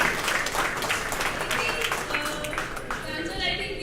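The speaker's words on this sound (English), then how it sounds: "Applause for Anuja for 800 kilometers." Audience applause at a live event, steady dense clapping throughout with voices mixed in underneath.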